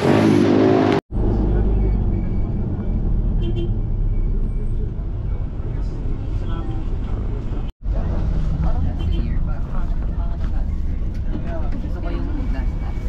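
Steady engine drone and road rumble from inside a minibus moving through traffic, continuous and close, with brief cutouts and people talking over it.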